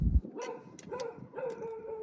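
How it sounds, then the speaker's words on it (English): A dog barks indoors or nearby a few times in short, whiny yelps with a howl-like, tonal quality, moderately quiet, with no talk over it. "They don't let them bark in the house"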